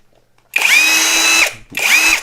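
A KAMOLEE DTW500 cordless impact wrench runs in two close, loud bursts: a long steady whine rising as it spins up and holding, a brief pause, then a shorter second run, with no talking.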